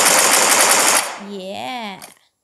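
Rapid automatic gunfire in a first-person shooter video game bursts loud and dense for about a second, then cuts off as a voice speaks excitedly over quieter game sounds.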